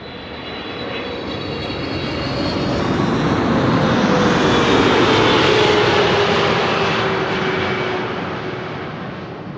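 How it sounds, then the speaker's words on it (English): A KLM airliner on arrival from Willemstad, Curaçao roars past at Amsterdam Schiphol Airport, a loud broadband engine rumble swelling as it nears and fading slowly away, with no talk. "let us first film KLM flight 736 arriving from Willemstad, Curaçao."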